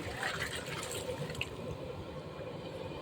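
Water runs steadily into a cooking pot, a continuous splashing pour lasting the whole stretch with no voices over it.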